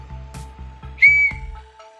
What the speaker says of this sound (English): Very, very loud little whistle, and it doesn't have a ball in it.